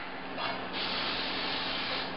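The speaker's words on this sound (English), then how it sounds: "Coat each baking pan with non-stick spray" Two close bursts of aerosol cooking spray hissing steadily, the second one longer and lasting nearly to the end.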